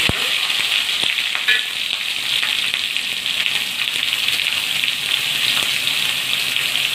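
Steady, bright sizzling of mushrooms frying in a hot pan, with occasional light scraping and clinks throughout.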